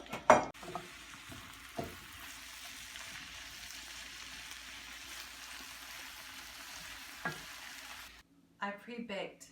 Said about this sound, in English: onions meet the hot pan